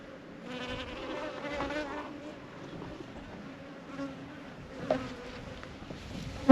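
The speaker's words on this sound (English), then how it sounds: "There's a bee on one right there." A bee buzzes steadily around lemon mint bee balm flowers in a wildflower patch, a continuous close insect drone with faint outdoor background.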